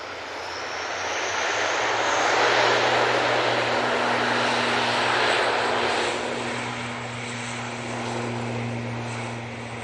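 An ATR turboprop airliner at Manchester Airport runs its engines with a loud propeller drone, steady low tonal hums beneath a broad roar that swells in the first seconds and stays strong.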